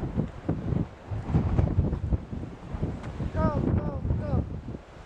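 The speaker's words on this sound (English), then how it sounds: "Nice and windy here." Wind buffets the microphone in gusty, rumbling bursts outdoors at Cape Leeuwin, with people talking over it and a brief high tonal sound partway through.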